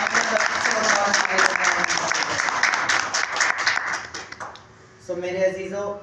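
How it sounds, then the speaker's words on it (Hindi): A church congregation at a Lent service applauds loudly and steadily, then the clapping fades out before a voice begins speaking. "आए एक दफ़ा जोरदार ताली खुदा के पाक रूह के लिए बजा दो"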